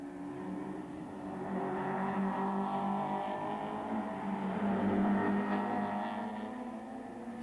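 BMW touring cars streaming past the pits at Kyalami during a 1994 South African Touring Car Championship race, a continuous distant engine roar swelling and fading as several cars pass.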